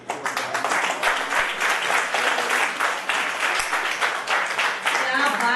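Sustained applause from an audience at a Hindi poetry festival in Palam, Delhi, a dense, steady wash of clapping that carries evenly through the whole stretch without a break.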